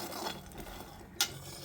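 Peanuts are stirred while roasting in a pan, a soft continuous scraping and faint sizzle. One brief sharp clink of the utensil comes partway through, all quiet and close.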